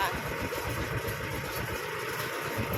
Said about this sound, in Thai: นั่งรถไถน้อยมานะคะ